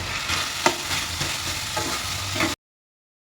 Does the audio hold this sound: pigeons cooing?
no